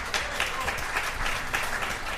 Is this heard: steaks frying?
no